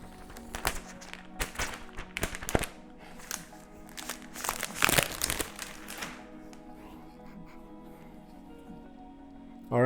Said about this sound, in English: Let's go back to this guy here and remove the plastic.